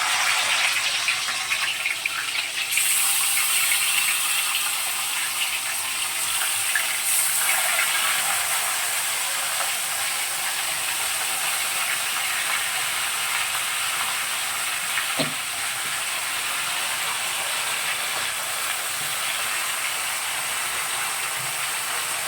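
Mutton drops into hot oil over potatoes already fried with cinnamon, raising a loud, steady hiss that holds for the whole stretch with a brief scrape partway through, no talking.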